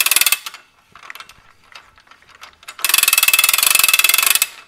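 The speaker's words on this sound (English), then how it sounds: "I'm just going to take my wrench, and this isn't going to do much, but I'm just going to give it" Ratchet wrench giving a quick tightening to a cart top hoist: bursts of rapid, loud clicking near the mic, a short spell at the start, scattered lighter clicks in the middle, then a long steady run of ratcheting to the end.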